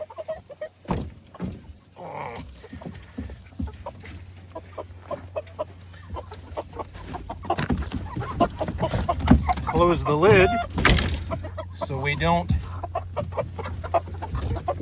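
Chickens cluck and squawk inside a chicken tractor coop as a lid creaks and bangs, with someone talking nearby and the bird calls rising louder toward the middle.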